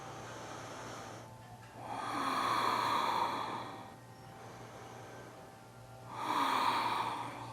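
Slow, deep breaths during a sacral chakra yoga exercise: two long audible exhales, near and fairly soft, separated by quiet pauses with no talking.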